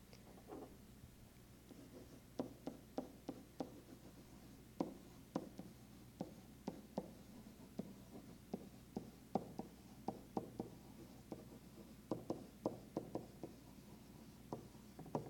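Pen or pencil writing a sentence by hand during math notes: faint, close scratching strokes with many small irregular taps as letters are formed, steady and quiet throughout with no talking.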